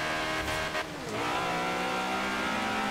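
Honda S2000 engine in the racing game Forza Horizon 2, revving high toward 9,500 RPM with a steady, dense whine that briefly dips and climbs again, loud and continuous without talk.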